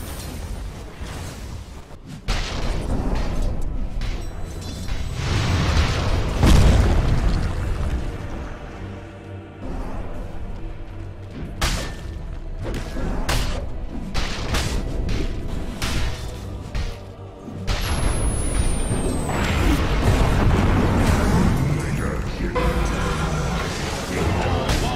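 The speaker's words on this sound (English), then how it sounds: "Dire's bottom tower is under attack." Dota 2 battle at the Dire's bottom tower, a dense, loud stretch of booming spell impacts, thuds, whooshes and crashes with brief gaps, sustained under game effects.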